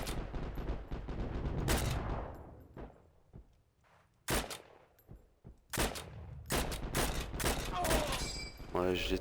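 Repeated gunfire from the video game Heroes and Generals, with bursts of automatic shots and single loud cracks spread through the clip, some close and sharp, others quieter, without speech.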